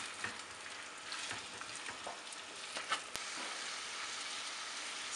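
Mutton pieces frying in a pan with browned onions for a mustard mutton curry, a steady broadband sizzle with scattered crackles and a few stirring knocks, fairly close and continuous throughout.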